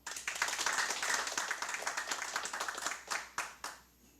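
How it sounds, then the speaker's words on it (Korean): Applause from a seminar audience on construction site safety, welcoming three speakers. Many hands clap in a full, steady burst that tapers into a few scattered claps and fades out, with no talking over it. "이 세 분께 큰 박수로 환영해 주십시오."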